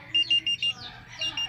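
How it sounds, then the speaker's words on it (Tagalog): A car's tire pressure monitoring system sounds its alarm for low pressure in the rear tire: six short, sharp, evenly spaced beeps, four in quick succession, a pause, then two more, fairly loud and close inside the cabin. "Nag-alarm yung TPMS ko. Bumaba na yung pressure ng rear tire."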